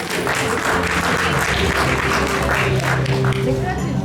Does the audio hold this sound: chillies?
no